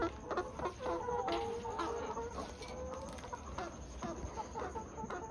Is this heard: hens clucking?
yes